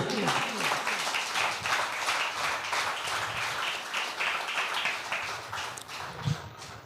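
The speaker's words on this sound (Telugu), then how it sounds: "గట్టిగా చప్పట్లు కొట్టండి." A church congregation claps loudly and steadily during a sermon, dense applause filling the whole stretch with a few stronger accents near the end.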